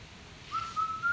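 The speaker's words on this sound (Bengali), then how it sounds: "এই যে পাখির ডাক, কু কু কু কু" A single high, clear bird call or whistle at a picnic spot rises and holds a steady pitch for about half a second in a quiet outdoor setting.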